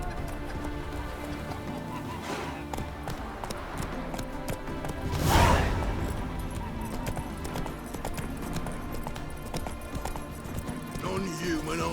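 A horse gallops in The Witcher 3, a steady rapid clip-clop of hooves running throughout, close and rhythmic, with a brief louder whoosh midway and voices speaking over the hoofbeats.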